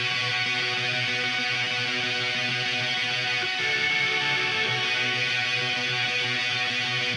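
An electric guitar lead through a Fender Mustang amp model with a chorus effect plays continuously with a shimmering, slightly wavering tone, full and up front, with no voices.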